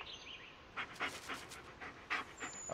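A dog in the horror game Blair Witch pants quickly and close by, a rapid series of breathy huffs of uneven strength over a low background hiss, with no talk.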